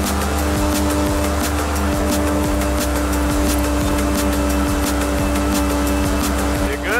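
Cars racing toward the city in Forza Horizon 5, steady engine drone with several sustained tonal whines throughout, brief tire-squeal-like chirps, loud and continuous with no talking.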